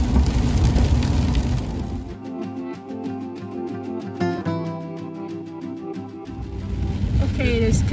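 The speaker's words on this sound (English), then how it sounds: "it is continuing to rain hard" Hard rain falling in the Catskills in September drums with a dense, steady hiss at the start and end, while a tonal, voice-like passage with sharp ticks partly covers it in the middle.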